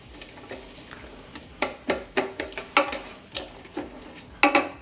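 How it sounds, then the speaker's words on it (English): Onions being sautéed in oil in a Ninja Foodi Grill, heard as a soft steady sizzle under a series of sharp utensil scrapes and clacks against the cooking pot, spaced irregularly and growing busier toward the end. "We're gonna start with sauteing the onions."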